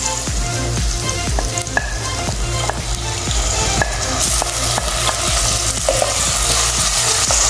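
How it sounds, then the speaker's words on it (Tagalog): Squid adobo frying and sizzling in a pan while being stirred, a steady loud sizzle broken by repeated scraping clicks of the utensil against the pan, close up with no talking. "Haluin lang natin at ituloy ang pagluluto mga boss."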